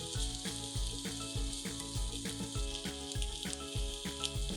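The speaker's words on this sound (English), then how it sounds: "Heat a frying pan and place the wings skin side down." Chicken wings frying skin side down in a hot frying pan, a loud, close, continuous sizzle with rhythmic popping and crackling that carries on steadily, with no talking over it.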